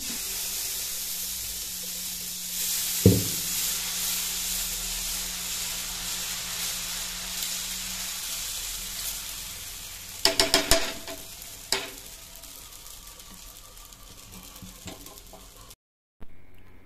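Beetroot dosa batter cooking on a hot pan, a soft continuous sizzle with scattered clinks and scraping of a utensil, no voices.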